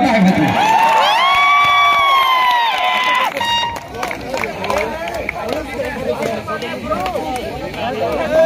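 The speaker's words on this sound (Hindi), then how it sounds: "एक बार जोरदार मेरे लिए भी ताली बनता है।" Crowd at a state-level kabaddi tournament final cheering and shouting loudly, with a rising whistle-like tone early on and lively chatter and whoops throughout.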